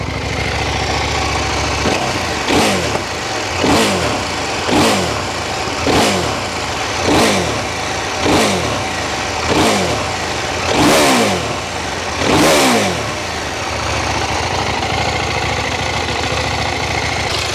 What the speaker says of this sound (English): let's have a listen to it as we start it up